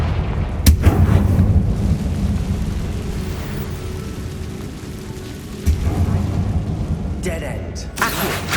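A Confringo blasting curse explodes in Hogwarts Legacy with a loud booming blast and a long rumbling tail, followed later by further sharp impacts and crackles.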